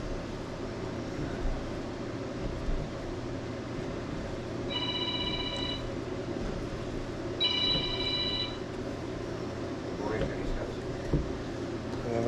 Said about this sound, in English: And then we got a phone call.